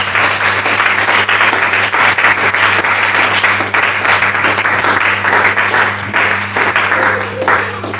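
A church congregation claps steadily and continuously through a worship service, a dense, even wash of applause filling the hall with a low organ-like hum beneath and no clear talking.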